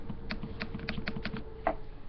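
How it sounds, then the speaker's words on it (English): Rapid light clicking on a button while playing a Skylanders game, a short run of quick plastic clicks followed by a pause and one last click, close and quiet with no speech. "Can you hear me clicking on the button?"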